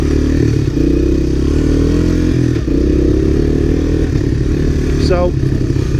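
A Honda ATC three-wheeler, one of a 1985–1986 Big Red or ATC250SX, crawls over rock in first gear on a trail ride, its engine droning loud and steady close by with faint scraping and a short whine late on.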